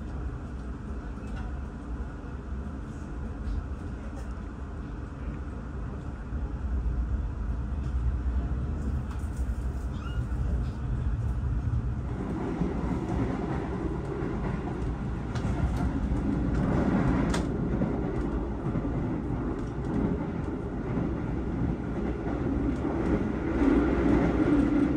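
A train rumbles through Kutoarjo station on a clear afternoon, a steady low roar that swells louder partway through and holds to the end without fading away.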